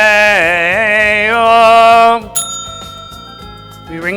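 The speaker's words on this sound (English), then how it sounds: "We ring the bell." A bell rung during an interfaith mental health conference gathering, a loud bright bell ringing for about two seconds with wavering tone, then a sharper struck ring that decays while other clinks and noises follow.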